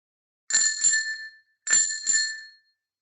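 A bright, ringing bell sound effect chimes twice in a row, each strike a clean metallic ding that decays over about a second, alone with silence between.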